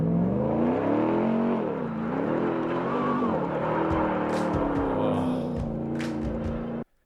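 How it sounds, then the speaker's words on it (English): A Ram pickup truck's V8 engine rumbles up close, with a deep steady idle, a brief rev partway through, and a settling rumble that cuts off abruptly near the end. "I'm gonna let you hear a little bit of that Ram truck starting up"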